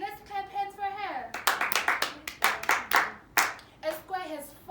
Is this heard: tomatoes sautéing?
no